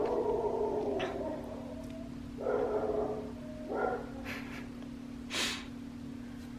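A few short dog barks ring out in a room over a steady low hum, spaced apart, moderately near and not very loud.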